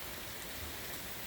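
Heavy rain pours steadily during a windy storm, a dense, continuous hiss with no voices.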